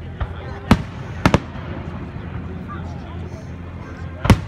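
Fireworks at the 2017 Stanford show: a handful of sharp, separate bangs ring out at a distance, a few close together and one near the end, with people talking quietly in between.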